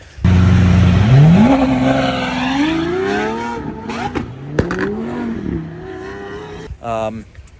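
Ducati Scrambler motorcycle engine revving and pulling away, a loud rising drone that climbs through gears with brief shifts between pulls, close and continuous, ending in a short fluttering burble.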